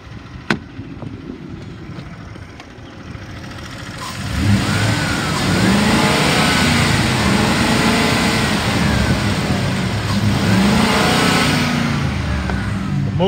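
A 2013 Ford F-350 XL crew cab dually with a 6.2L gas V8 and 99,000 miles idles quietly at first. Then it revs up loud and close, holding a high, steady rumble to the end.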